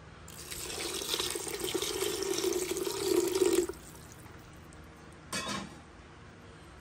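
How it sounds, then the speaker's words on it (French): Water runs steadily from a tap into a cooking pot for rice with greens and pork, a close, continuous splashing pour that stops abruptly, followed by a second brief pour. "Je vais mettre de l'eau dedans."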